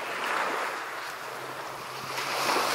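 Ocean waves wash onto a beach in a continuous broad rush, with wind blowing across open water on a June day.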